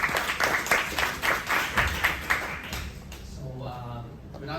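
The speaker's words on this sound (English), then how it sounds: "let's give it a round of applause" An audience at an insurance conference claps for a closing keynote speaker in short, uneven bursts. The clapping is moderately loud and tapers off as a voice begins over it.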